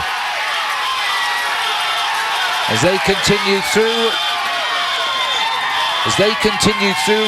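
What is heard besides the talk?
roadside crowd cheering cyclists at a pro cycling race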